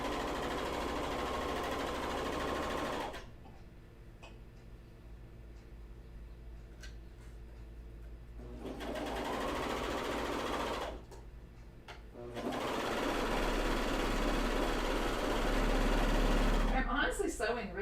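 A coverstitch sewing machine stitching underwear runs in long loud whirring bursts, stopping twice in between, close up, with a voice talking over parts of it.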